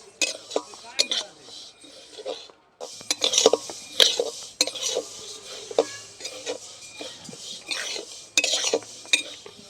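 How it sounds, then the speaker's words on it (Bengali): Sesame seeds dry-roasting over low heat in a pan, stirred with a metal utensil, give close, repeated scraping and light clinking strokes with a faint dry crackle underneath. "দেখুন, তিলটা আমি হালকা আঁচে খুব ভালো করে ভেজে নিয়েছি।"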